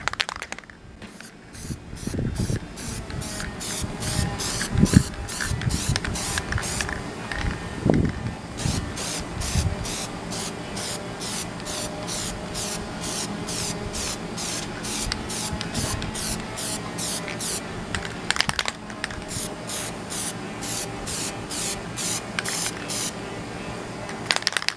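Plasti Dip aerosol sprays a thick final coat onto interior car panels in rapid short hissing bursts, close and loud, with brief gaps between passes.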